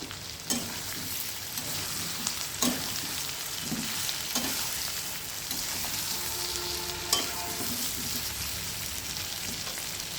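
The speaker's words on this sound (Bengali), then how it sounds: "মশলাটা ভালোভাবে কষাতে হবে।" Onion, garlic and ginger paste frying in a pan: a steady, close sizzle, broken every few seconds by the scrape and clack of a stirring utensil.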